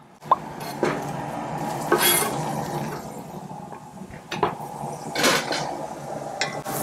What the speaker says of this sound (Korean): 그리고 여기다 파를 넣어 주세요.